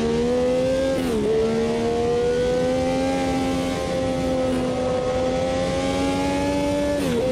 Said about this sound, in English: Oh, sorry about that engine.